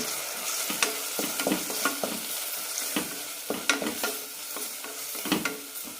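Spice powders being sautéed in a pan for radish gravy, a soft steady sizzle with a spoon scraping and stirring in irregular close strokes, no voices.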